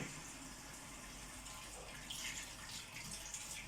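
A tap runs steadily into a sink while food is rinsed in a home kitchen, making a continuous, fairly quiet splashing wash with small spattering variations and no talking.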